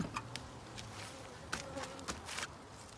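Honeybees buzzing around an opened mountain beehive, a steady insect hum with a few louder passes of individual bees drifting close, no voices.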